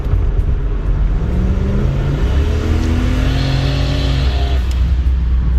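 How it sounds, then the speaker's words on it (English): LS-swapped turbocharged Nissan 240 pulling under light throttle, a loud, close engine drone climbing steadily in pitch through the rev range with a deep rumbling undertone. "I'm just gonna kind of tip into the throttle, not even gonna floor it or anything."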